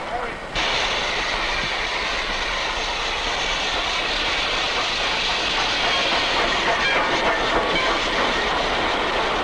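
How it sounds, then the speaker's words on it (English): A steady low rumble of a train passing close by, constant and loud throughout with a faint voice underneath. "here's the train."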